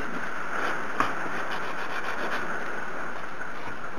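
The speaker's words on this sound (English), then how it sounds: "I'm just going to sand down the seam line running down the piece. Just a few pulls of my sanding stick" Steady, close scratchy rubbing of a sanding stick along a seam line on a plastic model tank part, continuous with slight rhythmic variation and one faint tap.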